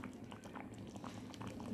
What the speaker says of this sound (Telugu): ఇదిగోండి పప్పు ఇలా బాగా ఉడకాలన్నమాట